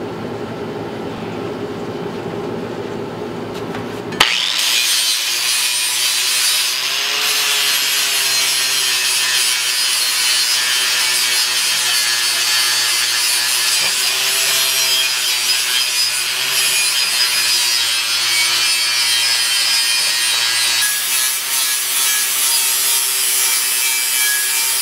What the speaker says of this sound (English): We got this Benchmark abrasives pad. I gotta get some of this crap off right here.